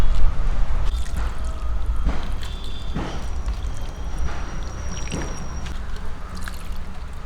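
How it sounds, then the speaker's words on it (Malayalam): Diluted organic liquid fertilizer is poured at the base of garden plants, giving wet splashing and dripping in several uneven bursts over a low, rumbling background, with no speech. "ഇങ്ങനെ ഓരോന്നിൻ്റെയും ചുവട്ടിൽ നമുക്ക് ഒഴിച്ചു കൊടുക്കാം"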